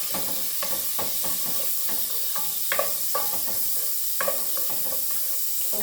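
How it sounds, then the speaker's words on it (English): Butter sizzles and crackles in a cooking pot coated with leftover browned bits, a steady hiss broken by a few knocks and spoon scrapes against the metal, close and continuous with no voices. "So I'm putting in a spoon of butter, guys."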